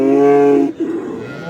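A cow at a livestock market in Ganja gives one loud, close, drawn-out moo, followed by quieter lowing and background noise.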